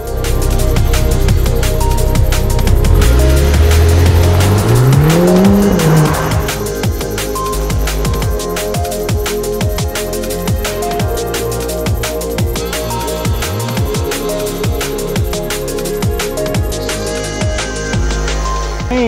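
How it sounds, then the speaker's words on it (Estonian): A Lotus Emira I4 sports car's engine, mounted behind the cabin, revs loudly during a test drive, its pitch rising through the gears with tire noise underneath, and no talking. "Aga mootor nüüd kohe siin vahetult selja taga häälitseb päris korralikult"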